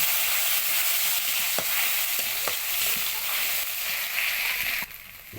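Cumin seeds and ginger paste sizzle steadily in a frying pan with dried chillies and bay leaf, a loud continuous hiss broken by a few soft stirring clicks, and the sizzle drops away near the end.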